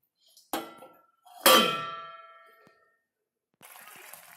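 Two metallic clangs ring out as a lid settles onto a pan of fish simmering with onion, green chili and tomato over low gas, the second hit louder with a long ringing decay, then soft noise.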